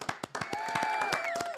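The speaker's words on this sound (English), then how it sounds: "I'm going to clap for you." A few hands clap in a quick, uneven burst at a union gathering after a strike authorization vote, close and fairly loud, with a sustained tone running beneath them.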